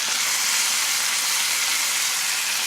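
Chicken pieces searing in a hot pan, a steady, close, bright sizzle hissing evenly throughout with no talking.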